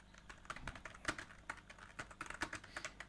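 Keys clatter steadily on a computer keyboard while text is typed into MS Word, a close, quick run of light clicks with no voices.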